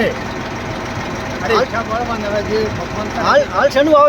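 A farm tractor engine chugs while ploughing a field during sowing season in Patan district, Gujarat, a steady low rumble running under voices that rise and fall across the short stretch.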